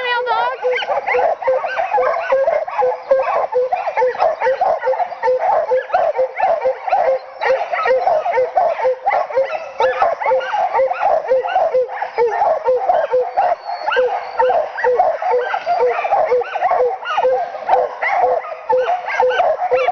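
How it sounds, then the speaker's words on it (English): Sled dogs eager to run bark, yip and whimper in a dense, continuous chorus, close and loud, with overlapping excited cries filling the scene. "These dogs really want to go."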